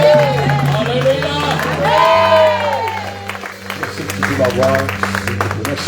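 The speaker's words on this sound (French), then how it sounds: "Et nous acclamons." A church congregation cheers and applauds together, raised voices ringing out over steady clapping in a loud, continuous crowd roar that lasts about six seconds.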